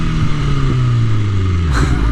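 A BMW S1000RR crossplane motorcycle engine with an Akrapovic exhaust holds a steady, loud low idle that drops slightly in pitch, ending with a brief blip near the close.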